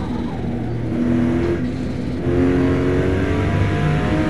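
A car engine in the racing game Forza Motosport, at Virginia circuit, drones steadily and then revs harder with a rising, whirring tone as the car struggles for traction. It is loud and continuous, with no talking.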